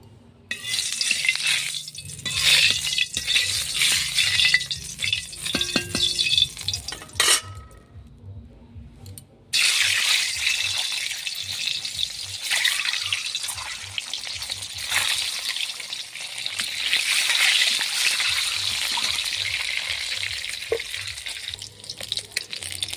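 Boiled, peeled eggs fry in white oil in a pan with a steady crackling sizzle, broken by the scrape and clink of a utensil stirring, close up.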